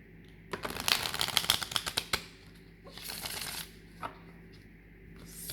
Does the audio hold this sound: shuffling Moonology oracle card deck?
yes